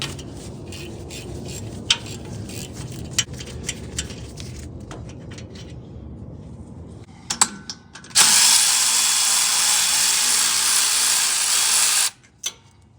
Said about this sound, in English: Now we can take our 15mm wrench and we can remove the single bolt that holds the cable to the axle.